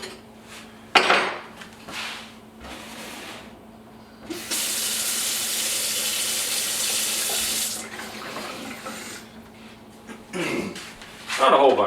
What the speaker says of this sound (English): I'm going to add just a little bit of water to that.